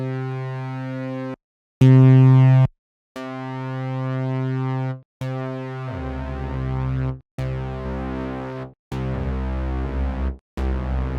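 Logic ES2 synth bass set to unison and raised an octave, playing loud sustained tonal notes in short phrases separated by brief gaps, turning into a busier, thicker pattern partway through.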